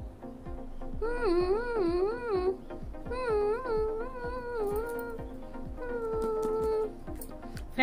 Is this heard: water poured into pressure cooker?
no